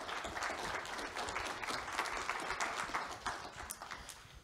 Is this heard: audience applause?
yes